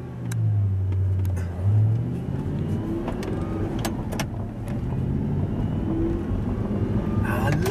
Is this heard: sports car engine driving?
yes